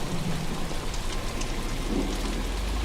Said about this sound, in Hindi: तभी रास्ते में तेज बारिश होने लगती है।